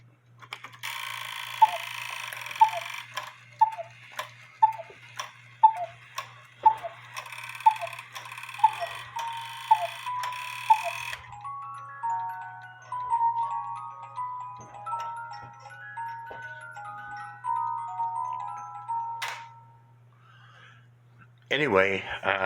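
A 1950s Poppo musical cuckoo clock with count wheel runs with steady mechanical ticks, then its melody plays as a series of bright tones that fade out, with a sudden rattle at the very end; a voice is heard faintly at times.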